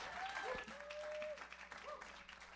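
Applause from an audience at a Bushwick Book Club music and literature night in Seattle, greeting a performer; steady clapping with crowd noise and some whistles over about two and a half seconds.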